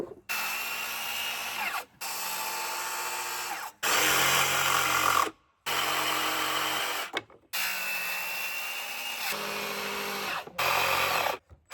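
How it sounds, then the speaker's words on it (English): Circular saw cutting wood boards while building a farm stand, running in long loud steady stretches broken by brief silent gaps, close by with no talk. "We're gonna cut them with the circular saw."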